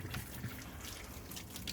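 Water runs quietly from a tap while a short-haired dog is bathed, a faint, continuous trickle with small splashes and drips throughout.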